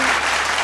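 Audience applause at the Jakarta Future Festival, a brief dense burst of clapping from a crowd, loud and continuous with no voices over it.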